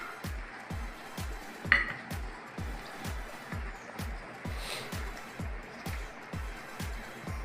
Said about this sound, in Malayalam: വെളുത്തുള്ളി, ഇഞ്ചി, പിന്നെ കുറച്ച് കോൺഫ്ലവർ കൂട്ടിയിട്ട് നമ്മളത് നന്നായി മിക്സ് ആക്കണം.